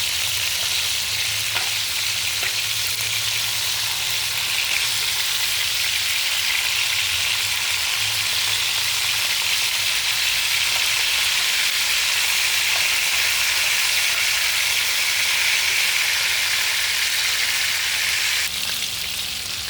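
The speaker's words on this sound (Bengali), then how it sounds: "মাছগুলো আমার ভাজা হয়ে গেছে" Poya fish frying in hot oil for a potato and eggplant curry, a loud, continuous crackling sizzle with steady spitting bursts that holds throughout, with no talking.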